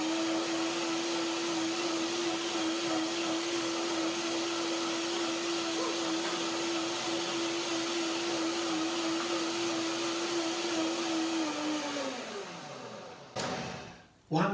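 A blender runs a second time on a cinnamon cashew milk soup with blackberries and mango, a steady motor whine holding one pitch for about twelve seconds before spinning down, followed by a brief clatter.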